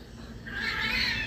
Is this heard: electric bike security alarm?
no